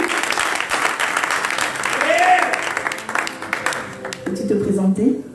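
A church congregation applauds in praise to welcome a newcomer at a Sunday morning service, with broad clapping and crowd noise under voices that fades near the end as someone talks.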